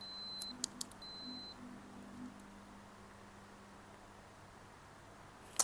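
A digital thermometer gives a few high, thin beeps at the start, then faint background hiss with a soft click at the end.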